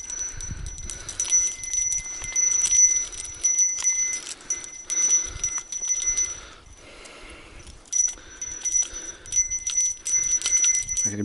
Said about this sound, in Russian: Тут у меня еще колокольчики стоят.